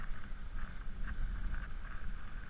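A tug power boat called Grand Old Gal cruises on the water with a low, steady engine rumble under wind buffeting the microphone, with no talking.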